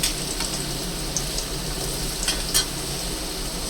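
Potato pieces fry in hot oil in a pan, a continuous close sizzle with a few light crackles and stirring clicks, no talking.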